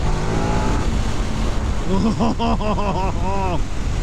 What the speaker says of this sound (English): That engine, wow. Even with a stock exhaust, Jesus, it's instant.